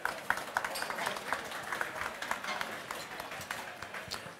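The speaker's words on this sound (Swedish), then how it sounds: "Ge honom en varm applåd från Oaxen." Audience applause at a cooking competition semifinal in Växjö, a steady patter of many hands welcoming judge Magnus Ek, with a presenter's voice over it.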